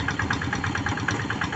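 A hand tractor engine pulling a wooden board to level a flooded rice paddy in North Sumatra chugs in a fast, steady, knocking rhythm, close and loud with nothing else heard.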